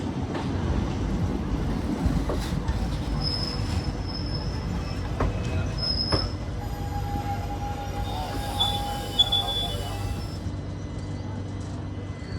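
An Intercity Express train pulls out of Gondal station on the Somnath to Ahmedabad line, wheels squealing in long, high, shifting tones over a steady rumble and clatter heard from onboard.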